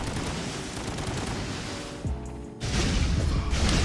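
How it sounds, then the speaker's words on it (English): Missiles popping in the action game Katana Zero, dense explosive game effects and noisy gunfire-like bursts, loud and continuous, with a brief drop before another burst. "after the missiles popped, I went for another sword slash to move forward the moment I heard the pop sound."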